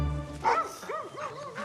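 Dogs playing in a large forest give a few close yips and barks followed by wavering whimpering whines, lively and uneven over a faint background.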